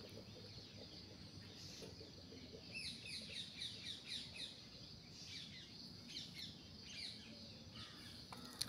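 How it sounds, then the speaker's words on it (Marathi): Morning birdsong in a home yard while someone tends a tulsi plant: irregular chirps, squawks and some clucking calls, soft and fairly distant, over a quiet steady background with no talking. "तर बघा ताईंनो इकडं पक्ष्यांची किलबिलाट तुम्ही ऐकत असाल।"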